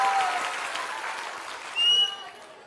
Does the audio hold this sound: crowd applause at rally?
yes